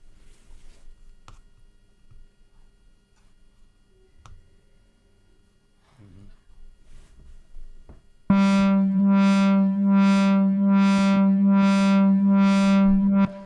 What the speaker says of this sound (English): what I did now is I'm modulating the filter to open and close rhythmically